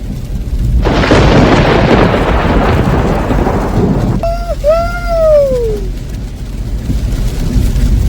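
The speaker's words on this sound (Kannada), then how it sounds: "ನೋಡಿ ನಾನ್ ಸ್ಟಾಪ್ ಮಳೆ ಅವಾಗಿಂದ." Heavy nonstop rain pounds outside a car near Bengaluru, mixed with deep thunder rumbling in a loud, steady wash, while a brief whistling chirp rises and falls partway through.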